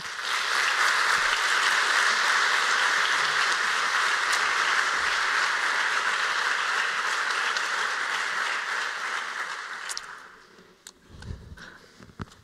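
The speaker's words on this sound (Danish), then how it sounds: "Velkommen på scenen, og giv dem et stort bifald." Sustained audience applause fills a conference hall in Aarhus as speakers are welcomed onto the stage, steady and loud for about ten seconds before fading out into scattered claps and shuffling.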